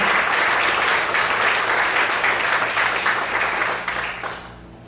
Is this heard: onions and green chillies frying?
no